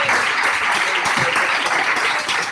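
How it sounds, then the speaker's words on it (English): A comedy show audience claps loudly and continuously throughout, dense applause with a few rising accents from the crowd in the venue. "Give them a round of applause."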